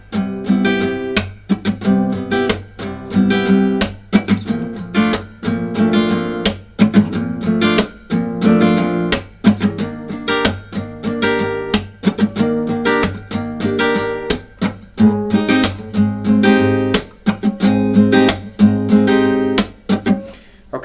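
An acoustic guitar plays a major 7th chord rhythm, mixing down and up strums with sharp percussive hits and muted notes. The pattern repeats steadily and clearly, close up, with no talking over it.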